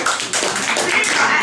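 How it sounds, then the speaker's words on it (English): Audience applause at a comedy club set, a thick burst of clapping that fills the room, loud and continuous, with no talking over it. "so everyone should applaud for him."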